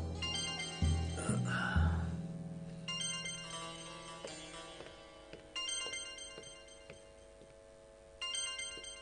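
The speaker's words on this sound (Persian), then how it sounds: "باید که به تلفن جواب بدهم" A telephone ringtone plays a bright, repeating electronic melody, loud and close, for the whole stretch with no talk over it.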